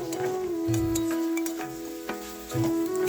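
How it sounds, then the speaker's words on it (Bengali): Fried cauliflower and potatoes being stirred into a spiced pan over medium-low heat, with close scraping and scattered light clatter over a soft sizzle, while a steady mechanical hum drones underneath throughout. "এবার দিয়ে দেবো ফুলকপি আলু ভাজাগুলো, দিয়ে এবার নেড়ে চেড়ে ভালো করে কষিয়ে নেব"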